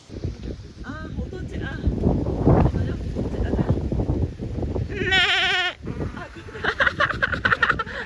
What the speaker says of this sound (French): Elle fait un gros bruit de chèvre.